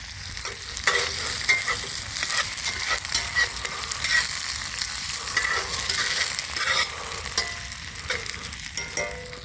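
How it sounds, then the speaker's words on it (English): Potatoes frying in a pan at an outdoor cookout, a steady dense sizzle with crackle and occasional stirring scrapes, close and continuous with no talk. "So there, I got my potatoes frying."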